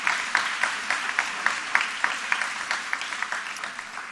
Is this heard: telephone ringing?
no